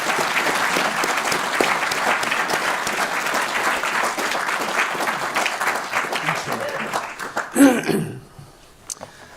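An audience at an evening talk gives sustained applause to welcome a speaker, a dense, even roar of clapping for about seven seconds before it thins out and stops, followed by a brief voice.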